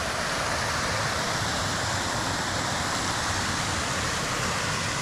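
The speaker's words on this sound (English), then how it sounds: "We got the waterfall." A waterfall at a campsite in Hancock, NY, on a rainy night pours in a steady, dense hiss that carries evenly and unbroken from start to finish.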